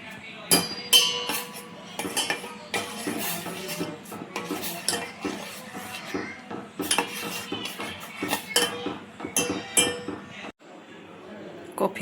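Spoon clinking against a cup while coffee is made in a home kitchen, a run of bright, irregular metallic chinks and clatters close by, with someone talking over much of it.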